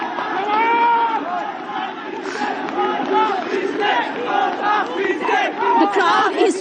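A huge crowd of anti-government protesters fills a street in Colombo, Sri Lanka, with loud massed shouting and rhythmic chanting, voices rising and falling in waves, close and continuous.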